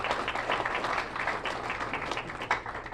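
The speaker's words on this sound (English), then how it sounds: "Give them another round of applause" Audience applause for school board members at a high school event, a brief burst of many hands clapping at moderate volume, uneven and crowded, lasting just under three seconds.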